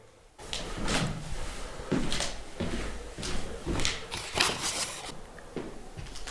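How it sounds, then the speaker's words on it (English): A door moving inside the abandoned Randolph County Asylum, heard as a run of close, loud knocks, creaks and thuds that repeat for several seconds with no talking. "I just heard a door."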